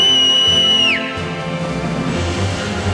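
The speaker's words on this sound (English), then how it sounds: "If anything happens, just whistle." A character in a Final Fantasy Mobius cutscene lets out a loud, sustained high whistle that slides sharply downward and cuts off, followed by a low musical background bed.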